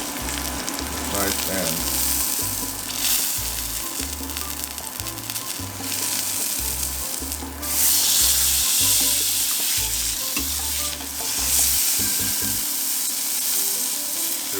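Pork chop fat side sizzling steadily in a hot pan, a loud continuous frying crackle with a few brief words spoken over it.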